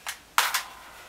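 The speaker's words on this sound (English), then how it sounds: "I just gotta take a breech out." A homemade Nerf blaster built from half-inch and three-quarter-inch PVC gives a few sharp plastic clicks and snaps at close range as its Rev 2 slug breech is pulled out, with no talking.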